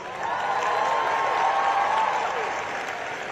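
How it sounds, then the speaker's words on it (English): A large commencement crowd at Howard University applauds the choir, a broad wash of clapping that swells in and holds steady, with a faint tonal ring or whistle sounding through the middle of it. "Let's give the choir another round of applause."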